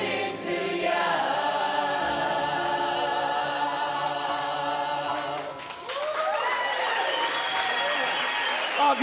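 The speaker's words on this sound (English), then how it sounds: "give yourselves a round of applause" An audience applauds at the Annual Derrick Bell Lecture, with sustained musical tones at first, then clapping that swells loud and continuous through the end.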